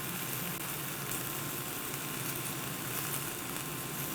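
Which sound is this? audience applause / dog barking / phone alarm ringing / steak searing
steak searing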